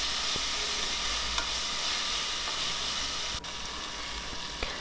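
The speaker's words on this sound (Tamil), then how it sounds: "இஞ்சி பூண்டோட பச்சை வாசம் போகிற அளவுக்கு நல்லா வதக்கி விட்டுருங்க" Ginger garlic paste sautéing in a pan for egg biryani, a steady close sizzle with light stirring scrapes and a couple of brief clinks, no talk.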